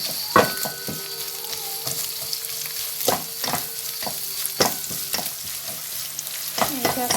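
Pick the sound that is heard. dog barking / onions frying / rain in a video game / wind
onions frying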